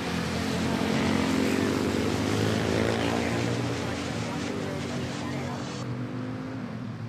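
A Beechcraft propeller airplane at Manila Airport drones loudly and steadily, its engine tone sweeping slightly as it passes, then fading toward the end.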